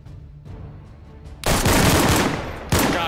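Loud gunfire in DayZ on PS5: after a quiet moment, a sudden close burst of shots blares with heavy echo, and a second sharp volley cracks near the end.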